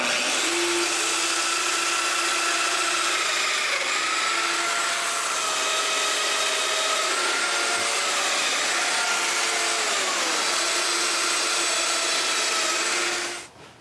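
A power tool cuts mortises in cedar parts for a patio table, giving a loud, steady whine that holds for about thirteen seconds before cutting off abruptly.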